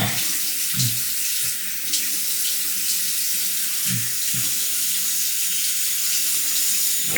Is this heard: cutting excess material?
no